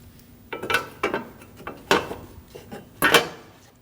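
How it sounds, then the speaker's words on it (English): Several sharp plastic clicks and rattles up close, a few separate snaps spaced a second or so apart, as a headlight wiring connector on a 2012-2022 Volkswagen Passat is pushed and seated. "Install the connector for the headlight. Push until you hear a click."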